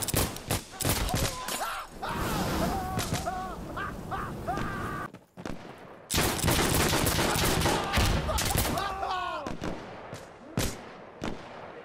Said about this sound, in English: The most epic gunfight you've ever seen in your life